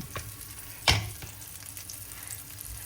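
Beef sizzles as it sautés in a pan for monggo with beef. A single sharp clatter of a utensil against the pan stands out, then a soft, steady frying hiss continues underneath.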